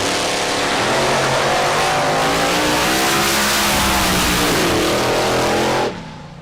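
A drag racing car makes a full pass down the track at a big-tire and small-tire drag event, a loud, sustained engine roar climbing through the run before cutting off abruptly near the end.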